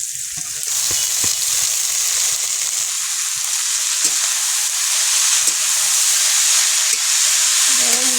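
Kalmi greens hit hot oil seasoned with kalo jeera, and a loud, steady hissing sizzle runs close up and unbroken, with a few faint clinks in the background.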